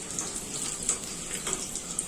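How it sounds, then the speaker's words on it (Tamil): Mustard seeds splutter in hot oil while tempering for a Kanyakumari cucumber curry, giving a soft, steady sizzle scattered with small, quick pops. "இப்போ கடுகு பொரிஞ்சு வந்துட்டுருக்கு"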